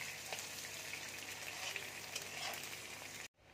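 Eggplant pieces fry in hot mustard oil with curry leaves, a steady close, dense sizzle and crackle that continues evenly for about three seconds before cutting off abruptly.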